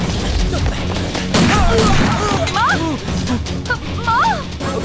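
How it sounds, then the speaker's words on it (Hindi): Gunfire crackles through an action film scene in bursts of sharp shots, mixed with shouting voices, crashes and a barking dog amid dramatic chaos. "यहाँ गोलीबारी हो रही है बाबा"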